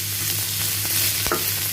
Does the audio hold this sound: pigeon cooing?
no